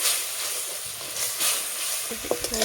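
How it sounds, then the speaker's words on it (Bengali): Spice paste with poppy seeds sizzles and fries steadily in a pan, with stirring scrapes and a few sharper clicks of the spatula near the end, close and fairly loud. "এটাকে আমি ভালোভাবে একটু ভাজবো।"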